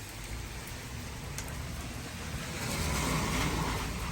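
Heavy rain in London, a steady, dense broadband hiss of falling drops that holds constant and grows slightly louder near the end, with no voices.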